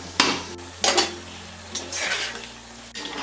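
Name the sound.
lid of a cooking pot being opened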